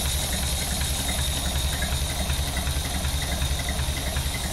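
A 1931 Horch 480 Sport Cabriolet engine idles when well warmed up, a steady low rhythmic chug with constant loudness and no voices.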